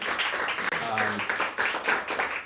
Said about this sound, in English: Let's give a round of applause to the entire team